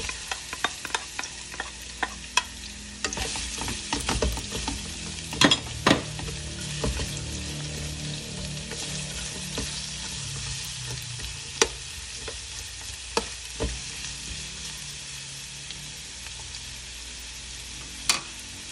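Onion fries in a pan with a loud, dense sizzle throughout, broken by sharp scraping and clattering strokes of a utensil stirring against the pan.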